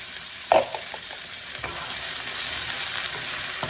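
Carrots and tomatoes frying together in a pan, a loud, continuous sizzle opening with a sharp splash as the vegetables go in, followed by light stirring clatter under an even crackling hiss.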